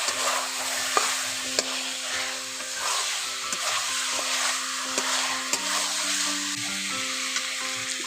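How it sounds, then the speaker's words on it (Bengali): Chicken frying in a pan with cumin and chili powder for a curry, stirred continuously with soft scraping and occasional utensil taps over a steady hiss and sizzle, close up, with no talking. "1 চামচ জিরে গুঁড়ো, 1 চামচ লঙ্কা গুঁড়ো, এই উপকরণগুলো দিয়ে আবার ভালো করে কষে নিচ্ছি"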